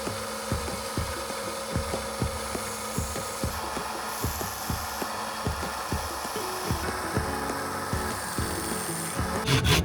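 Rhythmic back-and-forth strokes of a hand saw cutting a small piece of wood while shaping a homemade micro glide bait, close and steady across the whole stretch, with a brief rustle near the end and no talk.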